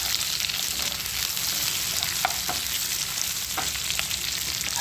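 Capsicum and onions fry in a pan for chilli chicken, producing a steady, close hiss of oil with a few brief clacks and stirring scrapes, no voices.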